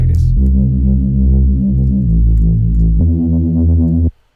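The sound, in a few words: Serum synth preset Kung Fu imitation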